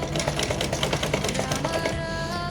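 A sewing machine stitches lace onto a skirt waistband for a small deity's dress, running in a fast, steady mechanical rattle for about two seconds before stopping.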